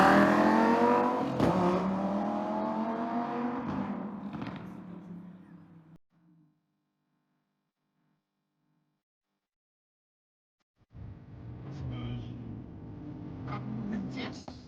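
A new Lamborghini revs and drives off on a city street outside an apartment building at night, loud and close at first, then fading. After a silent gap, engine noise returns more quietly.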